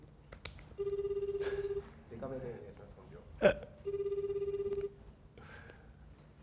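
A phone on speakerphone gives two bursts of electronic ringback tone, each lasting about a second, with voices speaking briefly in between, in a quiet room.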